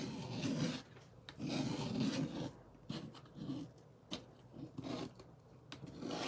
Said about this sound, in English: I know the scraping probably drives somebody crazy.